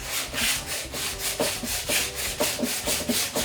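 A thrifted metal chair is scrubbed to remove rust in quick, rhythmic back-and-forth rasping strokes, close and loud, about seven strokes with no talking.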